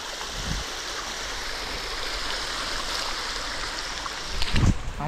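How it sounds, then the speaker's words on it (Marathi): River running full after rain in a Konkan forest at night, a steady, loud rushing of water throughout, with a couple of brief splashes or thumps nearby. "पूर्ण नदी भरली आहे, बघू शकता"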